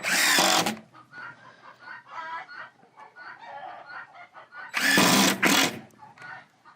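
Chickens cluck and cackle in bursts near a coop under construction, while loud broadband mechanical noise starts and stops twice, drowning them out for moments.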